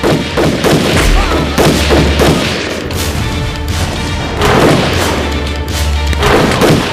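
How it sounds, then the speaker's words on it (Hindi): Battle gunfire from soldiers' guns in a Hindi film scene, with repeated loud booming shots and dense bursts of firing throughout, heavy low rumble underneath and no clear talk. "दुश्मन के सैनिक बंदूकों से गोली चला रहे थे।"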